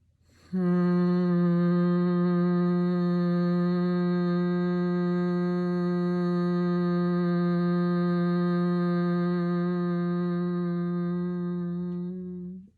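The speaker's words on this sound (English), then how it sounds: "I'm going to hum a nice low tone, something that's calming." A steady, low hummed tone held for about twelve seconds, smooth and unbroken, close and fairly loud, fading out at the end.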